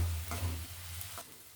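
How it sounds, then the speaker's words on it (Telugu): Ginger garlic paste fries in hot oil for spicy chicken fry, giving a steady sizzle with a low hum and a couple of soft stirring scrapes, fading slightly near the end. "టేబుల్ స్పూన్ నిండా అల్లం తెల్లగడ్డ పేస్ట్ వేసుకుని బాగా వేయించుకుంటాం."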